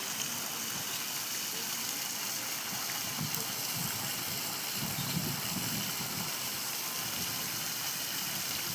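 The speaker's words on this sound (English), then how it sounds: "I love the sound of the water." An outdoor water fountain splashes in a continuous, even hiss close by, with a low rumbling undertone and faint voices in the background.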